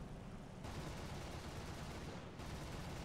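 Fighter aircraft guns in War Thunder fire in two dense bursts of rapid rattling shots, with a brief gap between them, over steady engine drone.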